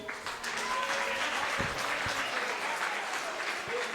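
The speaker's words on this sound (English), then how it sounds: "So clap for them." An audience at a school annual day claps for children, a dense, continuous round of applause heard slightly distant, holding a steady level before easing near the end.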